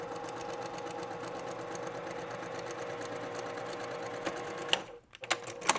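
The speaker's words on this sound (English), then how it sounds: "So I might be sewing 2 sets of blocks or 4 sets of blocks based on how the colors are." A sewing machine stitches quilt blocks for a star quilt, a rapid continuous mechanical whirr that runs steadily, then stops abruptly, followed by a few soft clicks and handling sounds.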